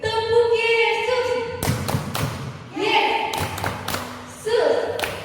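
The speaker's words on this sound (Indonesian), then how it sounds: "yuk sama-sama kita tepuk Yesus. Tepuk Yesus." Children clapping hands in a rhythmic pattern during an online Sunday school worship session, with sharp, close claps in short clusters interleaved with singing and chanting voices.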